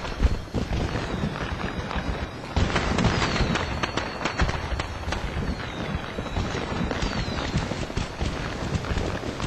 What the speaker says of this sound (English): It's a shame fireworks don't last forever.